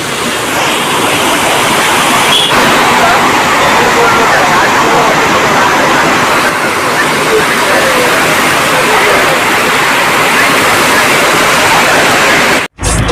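Continuous broadband rush of flowing water beside a temple at Puliyancholai near Thuraiyur, India, loud and close, like a small waterfall or stream, with speech faintly beneath it.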